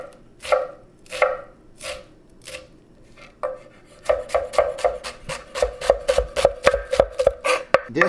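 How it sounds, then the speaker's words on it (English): A knife chops onion on a cutting board, first in a few slow spaced cuts and then in a quick, steady run of crisp near strikes that keeps going until the end. "Okay, now we chop the onion."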